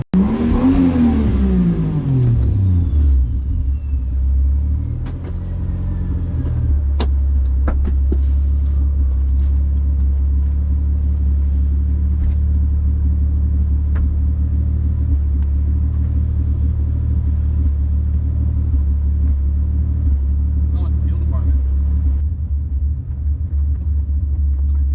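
A Toyota Supra with its fuel pump ECU bypassed revs up and down sharply at the start, then settles into a loud, steady low engine rumble while driving, with no talking.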